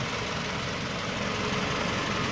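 A 2002–2006 Toyota Camry engine idling steadily under the hood, a continuous low rumble with a faint vibration hum, smooth and even throughout with no voices.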